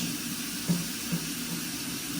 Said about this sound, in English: Then I'm going to turn off the faucet.